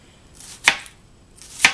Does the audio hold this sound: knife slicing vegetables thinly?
yes